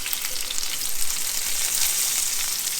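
Food sizzles and fries in a pan over medium-high heat, a steady, bright, crackling hiss that stays close and even throughout with no talking.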